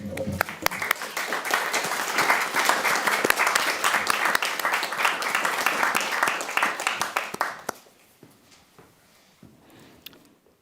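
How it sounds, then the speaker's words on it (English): Audience at a talk on David Attenborough applauds loudly and steadily for about seven seconds, then the clapping fades out to a few scattered claps and quiet room noise. "And while we're clapping"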